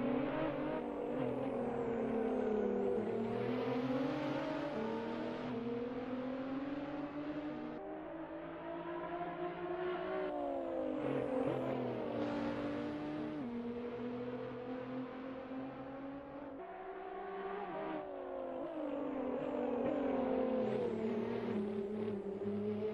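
Race car engines roar through an Assetto Corsa event replay, rising and falling as the cars accelerate, shift gears and sweep past, loud and continuous for the whole stretch with no talking.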